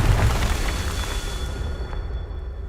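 A Confringo fire spell explodes in the video game Hogwarts Legacy: a loud, close, deep boom that rumbles and then fades away over about two seconds.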